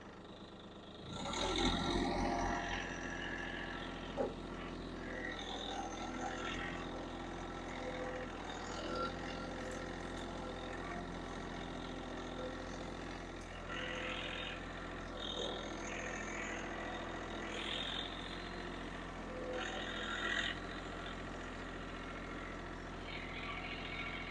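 A tractor engine fitted with a Jobsite root grapple idles steadily at close range, a low constant rumble throughout with a brief louder surge near the start.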